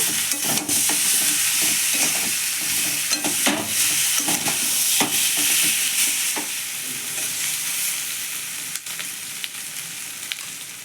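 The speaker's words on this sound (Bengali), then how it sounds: "তো আমি ভালো করে নেড়ে নেড়ে এটাকে ভেজে নেব।" Potatoes fry in a village kitchen pan while being stirred again and again, giving a loud, steady crackling sizzle broken by repeated scrapes and knocks of the utensil throughout.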